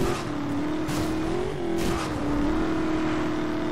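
Chevy car engine in Need for Speed Most Wanted, a steady droning hum held at a constant pitch, with brief bursts of noise over it and no gaps.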